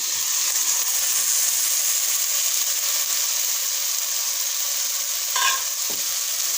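Sprouted green gram tipped into a pan of softened tomatoes and stirred, a loud continuous sizzle with scraping stir strokes and a brief clatter near the end.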